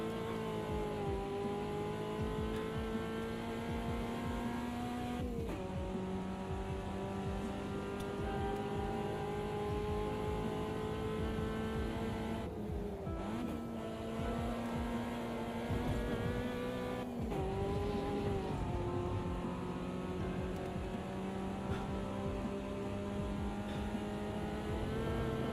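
A race car in Automobilista 2 laps a track, its engine note climbing and dropping through gear changes with brief lifts for corners, loud and steady throughout with no talk.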